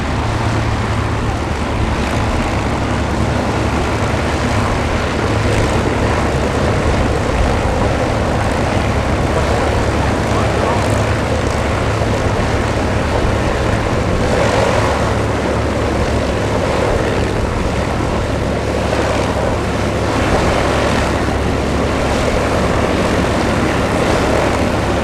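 Roaring piston engine of a P-51D Mustang on the runway at the Duxford Battle of Britain airshow, a steady loud drone that holds throughout with little change, mixed with wind and crowd ambience.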